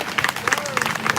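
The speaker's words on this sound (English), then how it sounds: "round of applause" Applause from a crowd at a peaceful protest, a short burst of rapid clapping mixed with voices and cheering.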